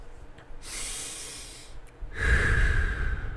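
Breathing exercise done before a motorcycle practical driving test: a long nasal inhale followed by a louder, fuller exhale through the mouth, close and alone with no talk.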